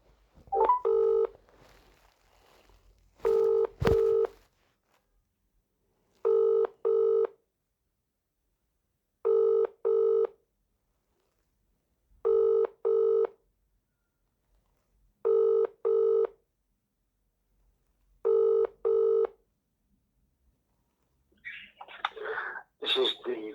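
Phone call being placed to a council legal department: six evenly spaced pairs of dialing/ringback tones, each a short double burst about three seconds apart, alone and fairly loud, with a brief rustle at the start and a voice beginning at the end.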